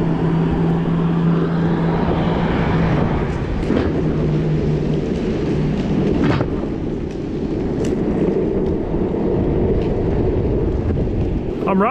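A MEEPO Mini 5 electric skateboard rolls along on speed four, with steady loud wheel and road rumble, wind noise and occasional knocks, and a rider speaking briefly over it.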